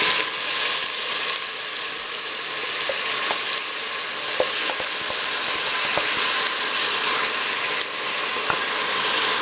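Onion and garlic fry in a pot for old-style braised potatoes, giving a steady close hiss of sizzling oil throughout with occasional small clicks and taps from stirring, and no voice.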